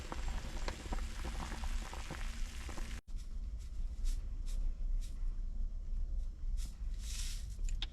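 Chicken soup with hazel mushrooms boils in a pot on a stove inside a camper van during a cold snap, a quiet continuous bubbling and simmering, with a brief cut partway through and no talk.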